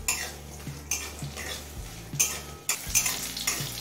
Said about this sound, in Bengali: এবার এই কাঁচা লঙ্কা আর রসুনটা দিয়ে আরো কিছুক্ষণ ভেজে নেব